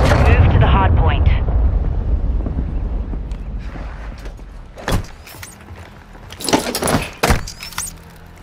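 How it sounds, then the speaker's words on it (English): Cruise missile strike in Call of Duty, a heavy rumbling blast that fades out, then scattered sharp bangs and impacts, with voices speaking over the game sounds. "Friendly cruise missile inbound."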